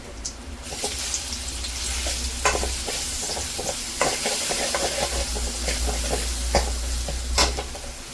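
Spices sizzle and crackle steadily in hot oil for tempering while a utensil stirs and scrapes, with occasional sharper pops and clicks over the frying.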